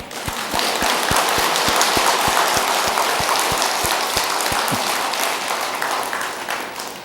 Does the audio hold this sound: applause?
yes